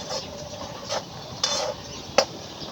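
A spoon stirs food in a pan, giving three or four distinct clinks and scrapes against the metal over a low sizzle, with no talking.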